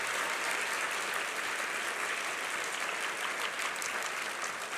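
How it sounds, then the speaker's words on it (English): An audience at a farewell event claps steadily and continuously, a dense wash of applause holding at an even level throughout with no voices. "So give Sandy a big round of applause."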